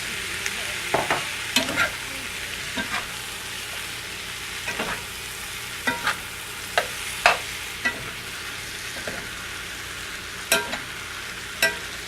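Potato curry with spices sizzles steadily in a hot pan while a utensil stirs it, scraping and knocking at irregular intervals, close and alone without talk.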